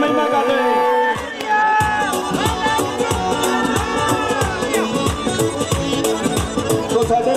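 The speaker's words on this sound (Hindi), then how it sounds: "तालियां के साथ स्वागत परमेश्वर के नाम की महिमा करते हुए।" Rhythmic group clapping beats along with music at a Christian Shobha Yatra procession in Nawashehar, welcoming guests. The claps are steady and mid-distance, under a busy crowd and musical backdrop.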